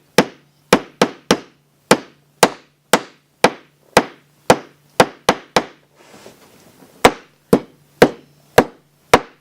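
Sharp, evenly spaced hammer strikes driving nails into wood, loud and close, with a short pause of soft rustling midway before the pounding resumes.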